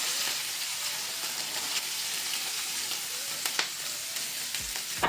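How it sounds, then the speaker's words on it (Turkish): Onions go into tomato paste already sizzling in a pan, a steady close-up frying hiss with scattered pops and crackles running throughout, no voices. "Artık soğanlarımı yavaş yavaş ekleyebilirim."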